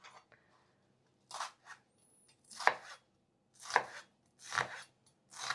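A knife chops onion finely on a board in several short bursts of rapid, crisp strikes, close and fairly quiet, separated by brief pauses of near silence.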